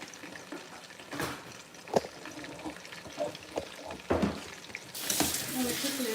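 Running tap water rinses squeezed, seeded tomatoes while soup is prepared in a kitchen, a broad splashing hiss that swells into a louder rush near the end, with scattered clinks and handling knocks throughout.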